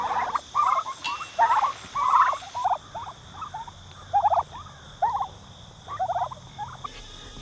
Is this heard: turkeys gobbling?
yes